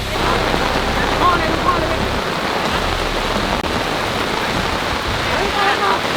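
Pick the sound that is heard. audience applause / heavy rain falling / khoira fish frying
heavy rain falling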